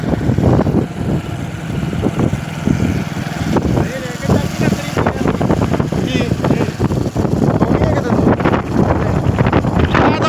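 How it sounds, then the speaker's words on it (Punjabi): Strong wind roars and buffets the microphone in a steady rush, with voices faintly audible under the gusts. "ਝੱਖੜ ਬਹੁਤ ਤਗੜਾ ਤੂਫਾਨ ਆ"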